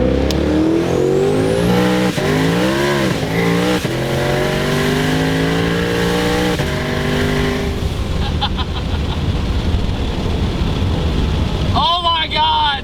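A 1200-horsepower twin-turbo Shelby GT500 accelerating hard in third gear, engine roaring loud and close with rising gear pulls and a shift, heard from inside with the windows down, fading into road rush at the end.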